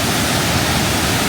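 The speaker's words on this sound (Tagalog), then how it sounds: "Sobrang lakas ng agos, oh." A strong river current rushing outdoors in Canada, a steady, dense roar of churning water with no break, loud and close.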